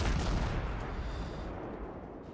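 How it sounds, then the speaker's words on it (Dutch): Warship artillery in the naval video game World of Warships, a heavy boom with a long rumbling decay that fades out over about two seconds, heard on its own. "En dit is een mooi schot."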